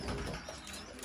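Pigeons coo softly in a loft, a faint, brief low murmur of calls at a distance.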